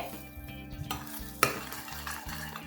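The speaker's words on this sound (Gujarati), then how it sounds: "આ પેસ્ટને આપણે બેથી ત્રણ મિનિટ માટે સતળાવા દઈએ છે" Raw onion and tomato paste sautéing in a pan for a Gujarati pigeon pea and eggplant curry, a steady sizzle with a spoon stirring and scraping, plus one sharp utensil clink.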